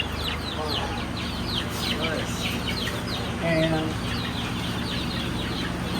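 Backyard chickens, young golden sex link hens and a Silkie, cluck and murmur around a coop, with a rooster nearby; a person speaks briefly over the steady flock chatter.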